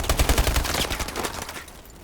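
Rapid bursts of gunfire in a Call of Duty Advanced Warfare tournament match, loud quick shots in a fast rhythm that thin out and fade toward the end, no voices.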